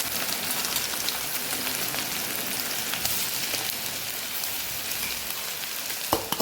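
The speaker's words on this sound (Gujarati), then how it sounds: "તેલ આપણું ગરમ થઈ ગયું છે તો અડધી ચમચી જેટલું આપણે જીરું ઉમેરશું બે સૂકા મરચાં ઉમેરશું આદુ લસણની પેસ્ટ ઉમેરશું" Cumin, two dried chilies and ginger-garlic paste frying in hot oil for a Rajasthani panchratna dal, giving a steady dense sizzle and crackle throughout with a brief sharper pop near the end.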